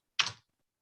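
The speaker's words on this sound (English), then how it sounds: "I was typing" A short burst of computer keyboard typing during a youth commission meeting, a quick cluster of soft clicks lasting well under half a second, close and alone.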